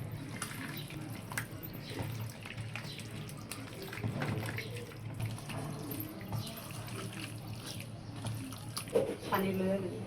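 Water being taken for cooking beef, a soft running and splashing sound like tap water into a vessel, faint and intermittent beneath a woman's speech.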